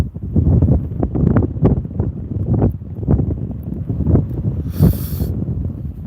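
Gusty wind in Queenstown buffets the microphone in loud, rumbling bursts, with a brief hiss of rustling near the end.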